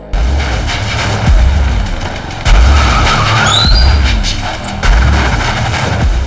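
A car driving hard with repeated tyre skids and screeches, loud and close, heavy low engine rumble surging in several bursts alongside high squealing, no talking.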